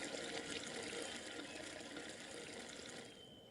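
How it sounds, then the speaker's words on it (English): A container filling with water in the game Gabriel Knight 3: a continuous rushing pour that holds steady, then eases off slightly near the end, with no voices. "I want to fill this thing with water."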